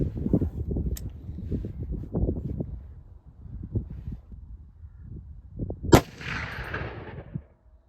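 An AR-10 rifle with a Zeiss Conquest 4-16 scope fires a single sharp, loud shot during sighting in. Low rumbling wind and handling noise come before it, and an echoing tail fades afterward.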